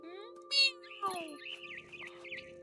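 An angry cat meows in a horror video game, one sharp high call followed by wavering electronic tones and game music while a person talks and mimics the meow.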